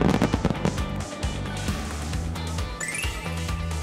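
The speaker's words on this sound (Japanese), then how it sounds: "夏の夜空を彩るさいたま市花火大会" Booming firework bursts and crackles rumble through a dense, noisy outdoor mix at a summer city fireworks festival in Saitama, Japan, with rising whistles near the end.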